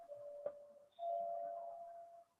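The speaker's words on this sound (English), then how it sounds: "somebody's ringing the bell" A doorbell chimes once, then a second, longer ring sustains for over a second, both clear and moderately loud inside a quiet room where a physics lecture is under way.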